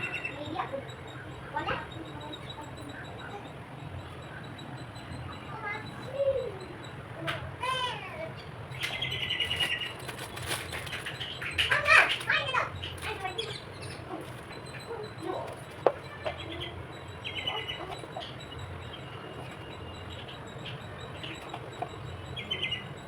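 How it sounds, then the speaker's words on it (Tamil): Scattered crow and sparrow calls and chirps over a busy village background, with distant children shouting and talking at times. "காக்கா குருவி கத்துற சத்தத்தோடு என் பசங்க கத்துற சத்தமும் கேட்குது அவங்களுக்கு"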